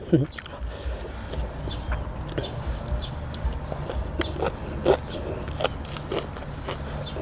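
Crispy fried fish is bitten and chewed up close with repeated sharp crunches and crackles, served alongside spicy papaya salad, and someone talks intermittently between mouthfuls.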